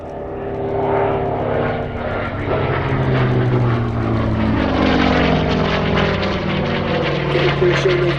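A Hawker Fury Mk.II propeller fighter plane drones loudly and steadily nearby at an airshow, its engine note sustained and slowly shifting in pitch.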